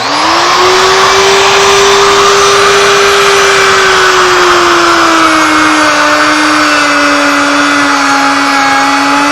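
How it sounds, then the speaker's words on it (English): A loud, high-pitched motor whine runs continuously, its tone dipping slightly as the router bites into the wood, close and unbroken. "you would go ahead and route off the entire surface"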